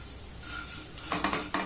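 Vermicelli frying in a pan until light reddish for a sweet dry jorda shemai, with a low steady sizzle and a few quick scraping stirs near the end, close and fairly quiet.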